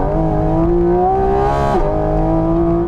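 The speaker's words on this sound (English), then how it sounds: "Oh, that is intake noise." A Porsche GT4 RS climbs through its revs with loud, harmonic intake howl rising steadily in pitch. The note peaks, dips briefly as the PDK gearbox shifts, then carries on strongly, heard from inside the cabin.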